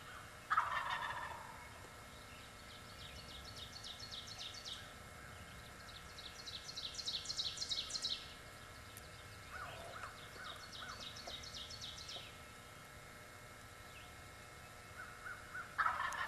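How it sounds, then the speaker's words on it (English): A wild turkey tom gobbles during a spring turkey hunt, rattling calls repeating at a distance, with occasional closer sharp yelps or clucks, over a quiet outdoor background. "As the tom stands out there gobbling, he's wanting the hen to come to him."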